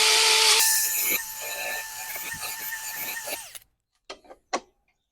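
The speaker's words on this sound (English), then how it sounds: "Quick wire wheel too." A wire wheel on a power tool scours metal during a repair of a snapped mower wheel, a loud continuous whirring grind with a steady whine, then it stops and a couple of knocks follow.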